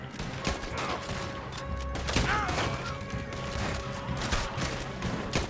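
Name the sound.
gunfire in shootout, video game Red Dead Redemption 2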